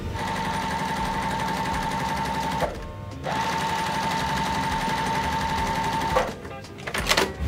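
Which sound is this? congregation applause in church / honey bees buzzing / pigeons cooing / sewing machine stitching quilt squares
sewing machine stitching quilt squares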